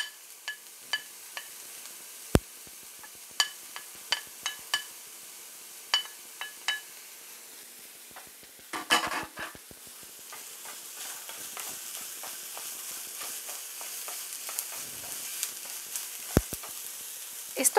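Garlic fries in a pan, giving a light sizzle under scattered utensil clicks and taps, followed by a brief clatter midway and then a steadier, louder frying hiss, close and without voices.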